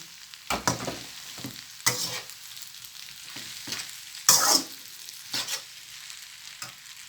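Pad Thai noodles with fresh shrimp and tofu are stir-fried in a pan. Intermittent scraping and tossing strokes come every second or so over a quiet, low sizzle.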